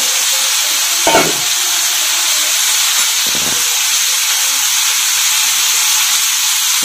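Soybean chunks fry in a hot pan with a loud, constant hissing sizzle, broken by a couple of brief scraping stirs.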